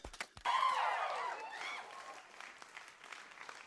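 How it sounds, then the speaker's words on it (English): An audience at a poetry reading breaks into applause, a loud burst of clapping mixed with cheering that fades over a few seconds into lighter scattered claps. "Please give her a big round of applause."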